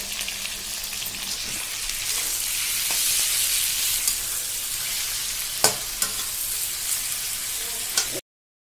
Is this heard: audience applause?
no